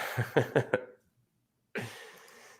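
A short run of rough, choppy throat-clearing bursts close by, then silence, followed by a longer raspy noise that trails off.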